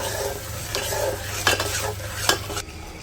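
Onion and green chillies fry in a pan with cardamom and cinnamon for vegetable khichuri, a steady close sizzle broken by scraping stirs of a spatula against the metal, then the sizzle quiets near the end.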